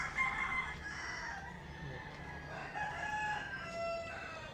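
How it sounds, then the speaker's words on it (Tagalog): Roosters crow in long drawn-out calls, overlapping and somewhat distant, over a steady outdoor background hum. "Nagtitilaok pa nga yung mga manok"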